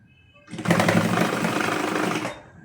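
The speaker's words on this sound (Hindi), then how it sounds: "बिल्कुल किनारे पे हमने सिलाई लगा देनी है जितना ये गला हमारा आ रहा है।" A sewing machine stitches close along the edge of a garment neckline, starting after a quiet half second and running in a fast, steady whir for nearly two seconds before stopping abruptly.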